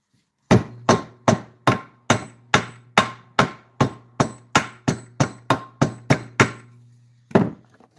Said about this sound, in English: I'm going to hit this a couple times with a hammer and get it more in shape.